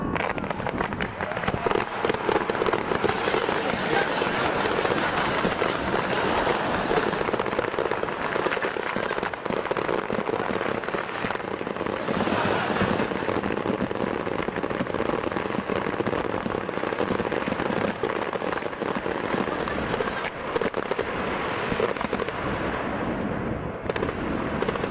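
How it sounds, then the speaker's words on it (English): A fireworks display that all went off within a minute after a technical hitch, a dense, continuous barrage of crackling bangs and bursts, loud and overlapping throughout. "all the fireworks went off in under a minute"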